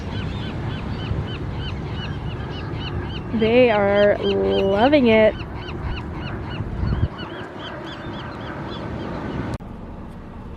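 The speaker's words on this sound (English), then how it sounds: "among the seagull pack now" Seagulls call in a flock at the beach, a run of harsh, wavering squawks up close, with a voice speaking among the cries and steady seaside background noise throughout.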